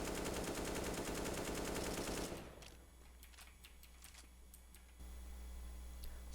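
Automatic rifle spray in CS:GO, a dense, rapid burst of loud gunfire lasting about two seconds, then quieter clicks and faint game ambience afterward.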